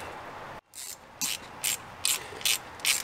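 A hand socket ratchet clicks on the cap bolts of a Toyota Land Cruiser 80 Series with a 1FZ-FE engine. After a brief drop, five or six short, crisp ratcheting bursts come at a steady rhythm, close by.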